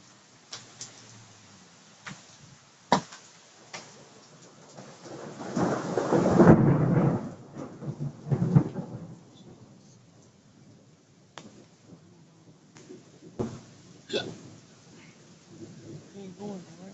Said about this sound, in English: Literally hailing like crazy.